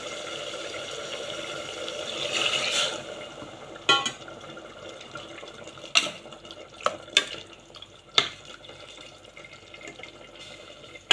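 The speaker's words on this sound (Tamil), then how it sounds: "உப்பு போட்டு தண்ணி ஊற்றணும்" Mutton stock pours into a pot with a soft rushing sound, followed by several sharp clinks and knocks of utensils.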